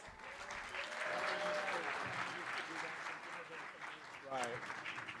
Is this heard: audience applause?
yes